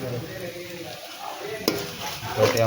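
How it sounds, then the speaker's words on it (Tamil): Small onions sautéing in a pan with salt, a soft sizzle with a spoon clinking and scraping against the pan as they are stirred, no talking. "உப்பு போட்டு நல்லா வதங்கட்டும்"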